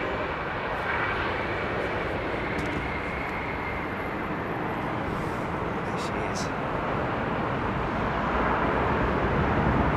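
An Airbus Beluga XL at Heathrow Airport fills the scene with a steady, loud jet engine roar that holds constant throughout, with faint voices in the background.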